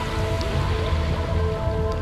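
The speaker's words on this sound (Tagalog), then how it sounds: "wag lumakas ang ulan" Steady rain falls in a dense, even wash of noise with a low rumble underneath, continuous throughout.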